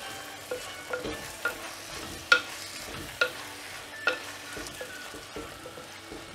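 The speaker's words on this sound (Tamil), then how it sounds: "இப்போ இதில் கத்திரிக்காய் ஆட் பண்ணி வதக்கிடலாம்." Brinjal stirred with tomato and coriander in a mud pot: a low, soft sizzle beneath repeated scraping and clacking strokes of a spoon against the clay, close up and fairly quiet.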